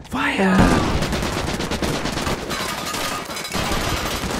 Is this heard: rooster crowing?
no